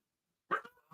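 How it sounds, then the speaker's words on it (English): A single dog gives a short bark, then a quick softer yip, sharp and fairly close after a moment of silence. "Oh, sorry about the dog."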